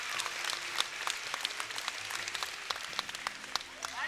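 Audience applause at a trampoline competition, a steady wash of many hands clapping with sharp individual claps standing out, moderately distant and without speech.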